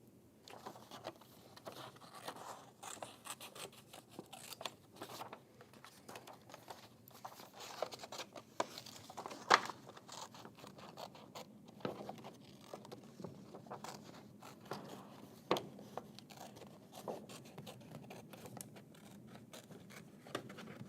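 Scissors make a rough cut of a window shape in paper for a pop-up book, producing a long run of faint, irregular snips and soft paper rustles with no talking.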